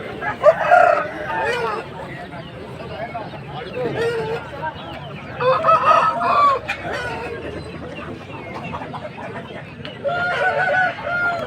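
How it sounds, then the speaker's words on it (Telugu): Country chicken roosters crow in a few drawn-out calls among general market noise and distant voices, with clucking in between. "ఇది ఒక పుంజు అన్న."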